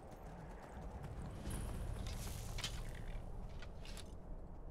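Steady clip-clop of horse hooves at a walking pace in the video game Skyrim, fairly close and continuous, with a faint creak of tack underneath.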